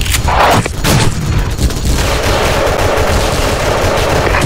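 Grenade blasts and gunfire crackle through a round of the shooter game SF RUSH, with repeated loud booms and bursts packed densely together across the whole stretch, dense and close with no talk.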